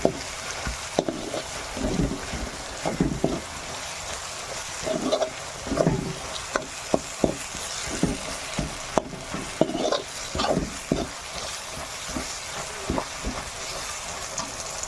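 Masala with black pepper powder frying in oil in a pan for chicken liver masala, a steady close sizzle broken by repeated scraping stirs of a spatula, with no talk.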